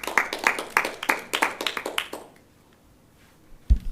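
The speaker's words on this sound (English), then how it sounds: "So if you could give a round of applause to welcome Kristin." Sparse clapping from a small audience welcoming a speaker at a talk on caregiver burnout, a few distinct hand claps for about two seconds before fading to quiet, then a brief thump.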